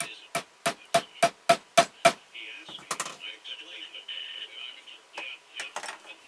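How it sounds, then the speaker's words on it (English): Seven evenly spaced sharp hammer taps punching a centre hole in wood strike in quick rhythm, followed by softer scraping and a few scattered knocks. "So we'll punch a hole so we don't lose track of where our center is"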